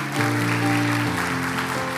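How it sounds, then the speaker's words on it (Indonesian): A church congregation claps together during a worship service, a brief, even patter of many hands over sustained keyboard chords, with no talking. "Kita tepuk tangan dulu"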